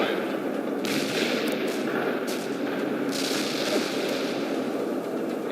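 Explosive artillery barrages and gunfire from the World in Conflict video game, a steady dense battle din with repeated booming bursts throughout, under and between radio chatter.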